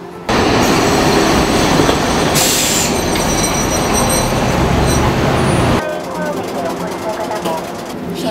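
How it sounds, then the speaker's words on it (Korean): Old Nagasaki streetcar tram arriving, a loud close rumble of wheels on rails with squealing and clatter that cuts off sharply, followed by quieter idling noise. "얼른 열차가 왔으면 좋겠다."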